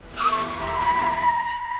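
A motorbike skids to a halt with a sharp, sustained tire squeal that holds for nearly two seconds, loud and close, with no voices over it.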